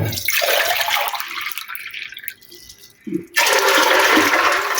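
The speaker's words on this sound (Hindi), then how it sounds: "ये मैं इसमें 2 लीटर पानी डाल दूँगी" Water gushes loudly into a cooking pot, about 2 litres, pauses briefly, then pours again in a strong, steady rush.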